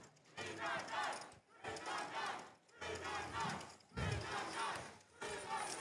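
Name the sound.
crowd cheering at robotics competition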